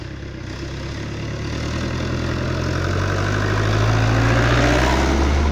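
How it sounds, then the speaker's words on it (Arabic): A car passes by outside, a steady broadband engine rumble with low droning tones that grows gradually louder over several seconds, with no talk over it. "عفوا بس تعدي السيارة"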